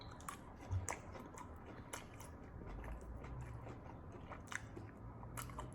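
Someone eats crispy hot honey salmon skin, with soft crunchy bites and chewing scattered through, close and fairly quiet over a low background hum.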